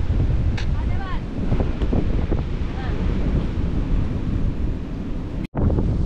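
Strong wind on the coast in Bohol, Philippines, buffets the microphone in a loud, continuous roar, with surf-like rushing underneath and a brief dropout near the end.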